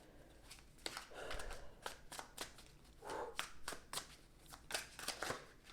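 Deck of cards being shuffled by hand, a series of quick riffles and snaps in uneven bursts, close and soft, with no talking.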